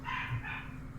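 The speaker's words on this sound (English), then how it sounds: "Sorry, my dog." A household dog barks once or twice, loud and close, during a casual online hangout call, with a low background hum underneath and no talking.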